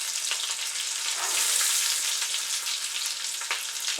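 Mashed potato balls fry in a pan of oil, giving a steady, close, bright sizzle that swells slightly midway, with faint bubbling crackles and occasional stirring clicks.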